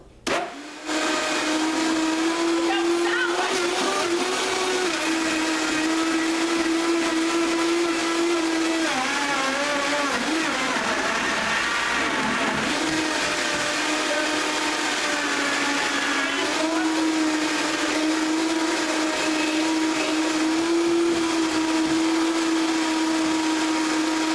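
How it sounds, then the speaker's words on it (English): A blender runs steadily on a low setting blending frozen bananas for a green smoothie, its motor whirring loud and constant with slight shifts in pitch as the contents churn. "So I turned the blender towards you all so you can see. I start out on low."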